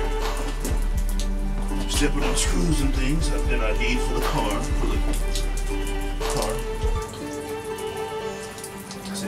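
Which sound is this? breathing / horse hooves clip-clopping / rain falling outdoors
rain falling outdoors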